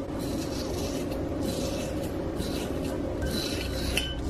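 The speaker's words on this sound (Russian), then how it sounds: "я вот так вот кладу листик и просто ложкой выдавливаю сок" A metal spoon scrapes and presses along an aloe leaf to squeeze out its juice, giving soft, repeated rasping and scraping strokes close by, with no talk.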